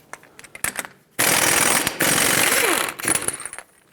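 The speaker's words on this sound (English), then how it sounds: "let's remove the axle nut" A 30mm socket on a power tool breaks loose the front axle nut of a 2001-2003 Lexus ES300, a loud, harsh mechanical rattle lasting nearly two seconds after a few lighter clanks, then fading into scattered clicks.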